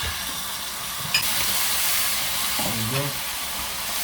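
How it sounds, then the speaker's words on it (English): Steady sizzling hiss of chicken frying in a pan, with a brief faint clatter and murmur partway through. "Listen to that sizzle."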